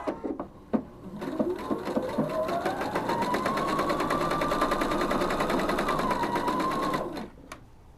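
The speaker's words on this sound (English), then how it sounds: "I'm going to go ahead and sew that at 5/8 inch seam allowance" A sewing machine runs steadily for about six seconds, close and loud, stitching a band onto the wrong side of a scarf at a 5/8 inch seam allowance, with a few clicks before and after the run.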